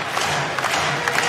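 A loud crowd of more than 2,000 fans in the Burridge Gymnasium cheering during a men's university volleyball national championship quarter-final, a dense, steady roar with no break.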